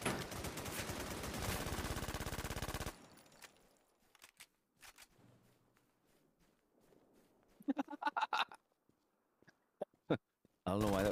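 Gunfire from a video game as shots go through a wall: a loud sustained burst of rapid fire, then silence broken by scattered sharp reports and a short cluster of shots, with a voice talking between them.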